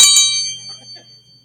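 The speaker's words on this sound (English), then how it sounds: "this is the official Arizona Town Hall bell" Official Arizona Town Hall hand bell ringing, two quick bright metallic strikes close by, leaving a clear ringing tone that fades out over about a second.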